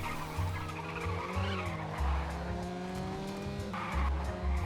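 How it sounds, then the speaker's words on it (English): A car drifts in the racing video game Race Driver: Grid, its engine droning and revving while the tyres squeal steadily through the slide, loud and continuous with no talk. "bring in some countersteering to wrap it all up into a smooth drift"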